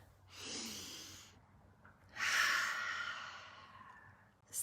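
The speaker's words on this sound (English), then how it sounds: "let me drop in with a deep breath to get started" A person takes a deep breath: a soft inhale, a pause, then a longer, louder exhale, close and quiet, with a brief breathy sound at the end.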